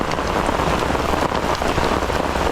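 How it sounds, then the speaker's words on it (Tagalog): Heavy rain pours down in a dense, constant hiss, drumming hard on nearby surfaces without a break, at a seaside campsite in Dingalan, Aurora. "Umulan. Lakas ng ulan, grabe."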